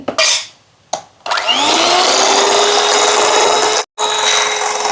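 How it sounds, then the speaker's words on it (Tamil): An electric mixer beats eggs for a coffee cake batter, a loud, steady high whine that starts and stops in short bursts before a longer continuous run. "எல்லா முட்டையும் சேர்த்து நல்லா பீட் பண்ணி எடுத்தாச்சு"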